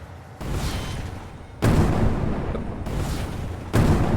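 Flares fired from a fighter jet in a video game, heard as loud whooshing bursts that start abruptly at about regular intervals, each followed by a sustained roaring hiss, with no talking.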